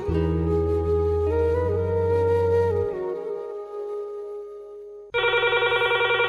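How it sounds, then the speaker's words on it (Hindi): Sustained telephone line tones hold and shift for several seconds, then a brisk, fast-pulsing phone ring starts abruptly and continues. "लो अभी फोन लगाता हूँ"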